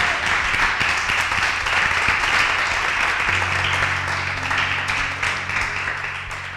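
A church congregation applauds during a Christian sermon on humility, a loud, continuous mass of clapping from a large group that stays strong throughout, with a low hum entering partway through.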